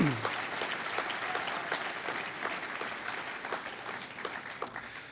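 Applause from the audience at a high school basketball hall of fame induction, a dense patter of many hands that starts strong and slowly thins and softens.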